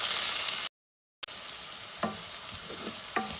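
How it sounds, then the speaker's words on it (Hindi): Ginger garlic paste sizzles and fries in a pan in a steady, bright crackling hiss, briefly cut off by a short gap, with a few soft stirring clinks after. "अदरक लहसुन के पेस्ट को भी भूनेंगे"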